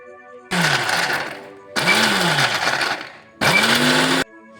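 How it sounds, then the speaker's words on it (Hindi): A kitchen mixer grinder pulverises cumin, green chillies, cloves, cinnamon, ginger and a whole garlic bulb in three loud bursts of whirring motor, each starting with a rising whine and stopping abruptly, with quiet gaps between. "अब हम इन सब चीजों को बारीक पीस लेते हैं।"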